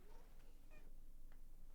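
A cat gives a couple of short, faint meows, distant and partly buried under a steady hiss of background noise.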